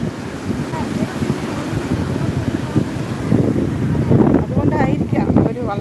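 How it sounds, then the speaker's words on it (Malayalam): Big sea waves rolling in at Vettukad beach, a steady broad roar of surf with wind buffeting the microphone, swelling louder near the end as a larger wave breaks; voices murmur faintly beneath. "പ്രതീക്ഷിക്കാതെ വലിയ തിര വരുന്നത് കേട്ടോ"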